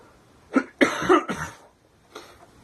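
A few harsh, congested coughs from a person with chest congestion, in quick succession, fairly close, followed by a pause and one softer cough.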